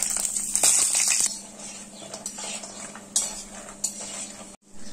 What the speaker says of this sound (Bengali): আর এখন আমি বড়িগুলো প্রথমে এখানে ভেজে নেব।